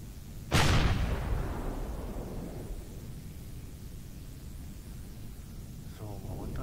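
Gunfire in the space survival game Empyrion Galactic Survival: one sudden, loud blast that rolls off in a long, fading rumble, then low background drone and a faint voice near the end.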